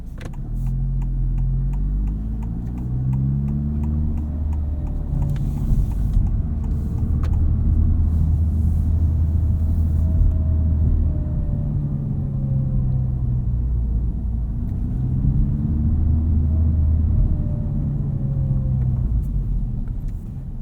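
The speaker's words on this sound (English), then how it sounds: "hopefully that gives you guys an idea of what this Resonator Delete sounds like." A 2023 Honda Civic Type R with a front resonator delete, heard from inside as the exhaust drones with a deep, steady rumble while the engine pitch rises and falls through gear changes, loud and continuous.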